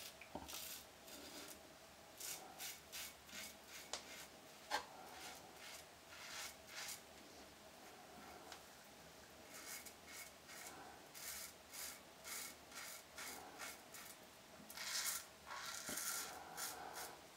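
An open comb Charcoal Goods safety razor scrapes across stubble in short, repeated rasping strokes, close and fairly quiet, with no talking.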